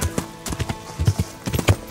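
Video game horse hooves clip-clop at a steady walking pace along a trail in Kingdom Come: Deliverance, close by, with a soft irregular rhythm and no voices.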